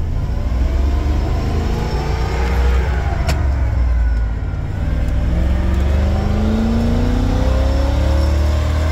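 A Ford 460 EFI V8 swapped into a 1978 Bronco runs steadily at close range, a loud continuous rumble with slowly rising engine tones as the throttle is lightly varied.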